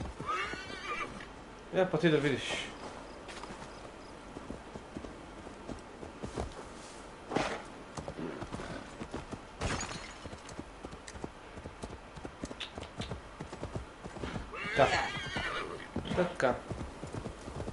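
Horse hooves clip-clopping and a horse neighing in the video game Assassin's Creed Valhalla, with short whinnies standing out amid steady hoofbeats while someone talks over the gameplay.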